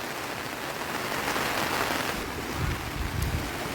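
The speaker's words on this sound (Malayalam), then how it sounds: "നല്ല അടിപൊളി മഴ പെയ്യണേ." Heavy rain pouring during sea fishing while a net is hauled in, a dense continuous patter of drops with some wind buffeting the microphone and a few low thumps, no voices.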